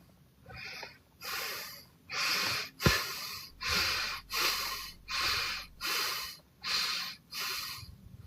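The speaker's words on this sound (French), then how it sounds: "Je suis essoufflé." A man out of breath after dancing pants heavily, with about nine loud, evenly spaced breaths close to the microphone, alone with no talking.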